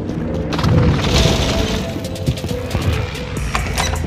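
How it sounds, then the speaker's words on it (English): Precision airstrike explosions in Call of Duty Warzone, a heavy low rumble with scattered crashes and impacts rolling through about four seconds, loud and close. "Enemy precision airstrike."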